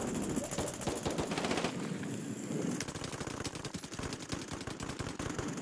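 Sustained automatic gunfire fills the Warzone video game, with dense, rapid rattling bursts running almost without a break, loud and close, and only a brief dip partway through, and no speech over it.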